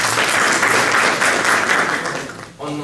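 Students in a thermodynamics tutorial classroom applaud a classmate, a dense burst of clapping that fades after about two seconds before a voice starts speaking.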